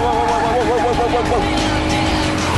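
Tires of a Lotus Evora squeal loudly in long wavering tones as the car slides through corners, with a steady engine roar underneath throughout and a voice talking over it.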